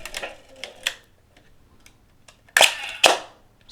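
Kiev 88 medium format film camera with a faulty advance wheel that fails to engage as the shutter is cocked. A few soft mechanical ticks come first, then two sharp, close shutter clicks about half a second apart.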